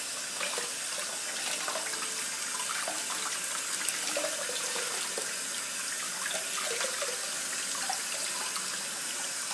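Tap water runs steadily as conditioner is rinsed from wet hair, a continuous close splashing hiss with small irregular drips and gurgles, no talking.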